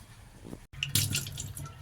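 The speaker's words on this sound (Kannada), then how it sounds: "ಚೆನ್ನಾಗಿ ತೊಳ್ಕೋಬೇಕು ಇದರಲ್ಲಿ ಪೌಡ್ರ್ ಇರುತ್ತೆ ಇದೆಲ್ಲ ಹೋಗೋ ರೀತಿ ಕೈ ಆಡಿಸಿ ತೊಳ್ಕೋಬೇಕು" Flattened rice (poha) is swished and rinsed by hand in water, giving brief splashing and sloshing sounds close up, with a short gap midway.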